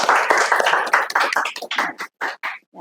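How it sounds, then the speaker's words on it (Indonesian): Students in a university teaching session clap to reward a classmate's answer, a brief round of applause that thins into a few separate claps. "Tepuk tangan buat itu"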